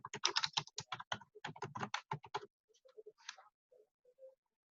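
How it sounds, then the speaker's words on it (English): Fast typing on a computer keyboard, a close, quiet run of crisp key clicks that slows to a few scattered taps near the end. "So we're going to type in Quilted Christmas."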